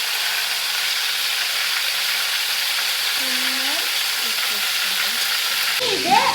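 Chicken pieces frying in oil in a pan for chicken shawaya, a steady broadband sizzle running throughout at moderate level, with a faint voice briefly audible beneath the hiss.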